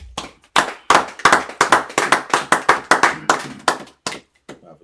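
A church congregation at a Sabbath service claps in a steady, fairly quick rhythm of sharp handclaps close by, a couple of dozen beats that thin out and fade near the end.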